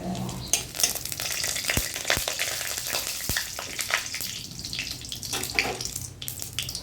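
Bay leaf and cumin hit hot mustard oil in a pan, giving a steady crackling sizzle with brief clicks and scrapes of stirring.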